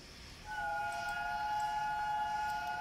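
The steam whistle of the locomotive Flying Scotsman in a video game starts abruptly and holds a bright multi-toned chord, loud and continuous over a low background rumble.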